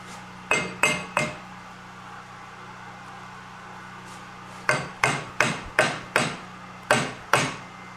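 Sharp metallic clanks ring out while polyurethane bushings are bolted onto a homemade long-travel trailer suspension, two quick strikes early, then a steady run of evenly spaced knocks after a pause, close by over a low hum.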